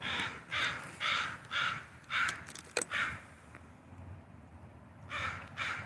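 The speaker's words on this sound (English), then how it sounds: "there's Magpie's been pretty vocal." A magpie gives a series of about six harsh, rasping calls in steady rhythm, fairly near, then falls quiet before calling twice more.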